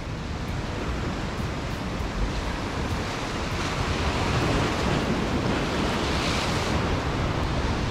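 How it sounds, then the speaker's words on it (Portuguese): Sea waves break and wash around a small rocky islet offshore, a constant loud roar of surf mixed with wind buffeting the microphone, with no talking. "Tamanho dessas ondas aí"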